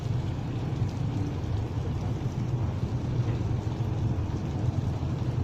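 Steady rain pours outdoors as a dense, loud, unbroken hiss and patter with a low rumbling undertone, continuing without pause the whole time.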